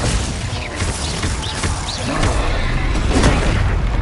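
Spell blasts from Hogwarts Legacy, a booming explosion followed by crackling crashes and a rumbling low roar that fills the space, dense and loud throughout with no talk.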